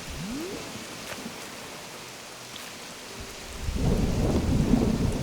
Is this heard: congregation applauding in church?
no